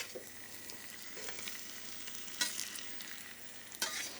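Zucchini slices sizzle steadily in a pan, seasoned and frying on each side, with a constant hiss and a few louder stirring or turning clicks near the middle and end.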